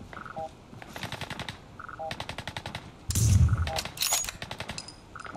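Automatic gunfire bursts from Fallout 4, modded, in several rapid rhythmic volleys with a louder heavy blast and scattered impacts midway, close and fairly loud, with no talking.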